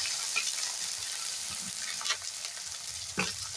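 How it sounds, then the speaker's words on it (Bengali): Onion and garlic fry in a pan with a constant close sizzle, and a few scrapes and stirring knocks break in now and then. "পেঁয়াজটা হাফ ভাজা হয়ে গেছে, দিয়ে দিচ্ছি রসুন। রসুনটা নাড়াচাড়া করে ভেজে নেব।"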